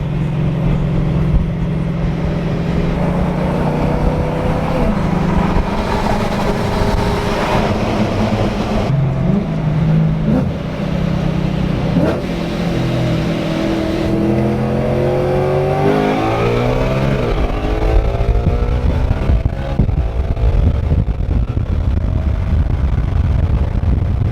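A supercharged 726 hp BMW E92 M3 with a Gintani Stage X setup revs loudly through a run of downshifts, its supercharger whine rising and falling with each blip as the car pulls away.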